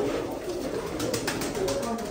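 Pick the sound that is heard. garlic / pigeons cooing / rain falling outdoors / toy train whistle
pigeons cooing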